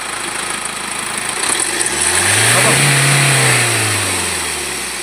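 A Mahindra Scorpio engine with an EGR noise fault is revved once in neutral, the rising and falling engine note swelling loud and close before easing off, with faint background talk.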